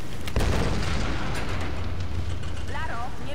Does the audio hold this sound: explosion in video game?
yes